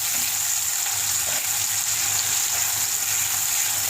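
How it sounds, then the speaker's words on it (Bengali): Hot oil in a kadai, a deep wok, frying spices lightly for a chicken and taro curry. A dense, even sizzle holds close and steady with no voices. "হালকা একটু ভেজে নেবো"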